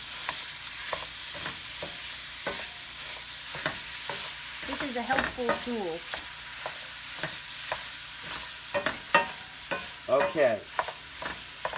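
Ground meat for Bolognese sauce sizzles steadily in a hot pan while a utensil repeatedly scrapes and breaks it up; a person speaks briefly.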